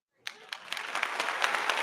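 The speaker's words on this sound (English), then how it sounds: "Do I have a clap?" Canned applause sound effect triggered from a Stream Deck, bursting in after a brief silence with scattered claps that swell into steady, moderately loud clapping.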